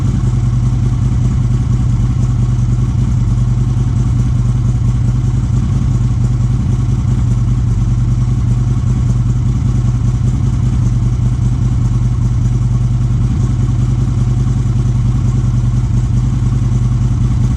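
A Harley-Davidson 103 Twin Cam engine runs steadily after a 570-2 cam install, with a loud, continuous close-up idle and a mechanical clatter from the valvetrain, no talk.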